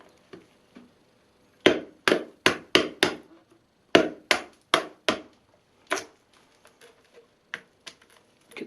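An Extrema Ratio RAO II heavy-duty folding knife chops into wood in a run of sharp, close impacts, roughly a dozen solid hacks coming in quick bursts with short pauses, then a few lighter taps, and no one talking.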